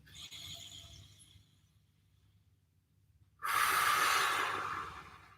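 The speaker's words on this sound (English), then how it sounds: "Gently hold in and then breathe it away out your mouth." A person doing a gentle home recovery workout breathes in softly, then releases one long, loud, breathy exhale through the mouth that fades out slowly.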